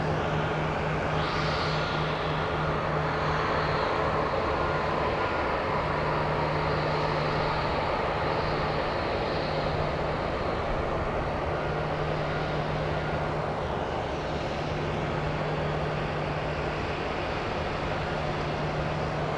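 Airliner on its takeoff roll at Phoenix Sky Harbor International Airport, a steady loud engine roar with a sustained whine that holds across the whole stretch, heard from a distance without talk.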